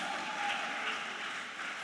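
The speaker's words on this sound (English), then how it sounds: "So I think she deserves another hand of applause." Audience applause at a women-led business finance summit, a sustained, fairly soft patter of many hands clapping with no break.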